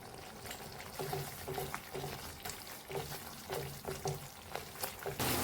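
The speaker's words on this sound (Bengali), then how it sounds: "মশলাটা কিন্তু নেড়েই যেতে হবে, কাজু বাদাম আছে তো, লেগে যাবে নিচে।" Spiced masala with cashew nuts frying in a pan for a paneer dish, stirred with steady scraping strokes at a regular pace over a constant sizzle, close and moderately quiet.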